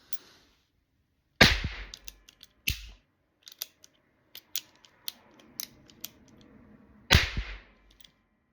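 Someone fires a cap gun pistol in a consignment shop. Three sharp, loud cracks are heard, and quieter clicks and snaps from the mechanism come in between. No one speaks.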